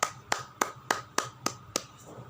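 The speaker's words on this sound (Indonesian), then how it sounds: "Kita beri aplaus kepada adik-adik dari kelompok 2 yang sudah memaparkan hasil jawaban mereka" Sparse hand claps for a group of students in a classroom, about seven sharp separate claps at a steady rhythm, close and moderately loud, with no voices.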